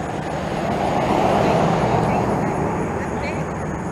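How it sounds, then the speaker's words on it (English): A steady broad roar of an airplane passing overhead fills the air outdoors, continuous and fairly loud with a slow swell and fade, mixed with wind and distant road noise. "I hear a plane."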